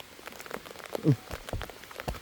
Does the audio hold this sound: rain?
yes